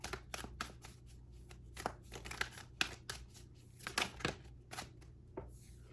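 Tarot cards being shuffled by hand, a quick irregular series of soft riffling slaps and flicks, close and fairly quiet, with no talk.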